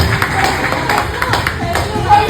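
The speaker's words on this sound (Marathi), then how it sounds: "सर्वप्रथम व्हॉट्सअप साठी जोरदार टाळ्या उडवते" People at a 1998 SSC batch reunion clap together, a brief patter of hands mixed with voices talking at the same time.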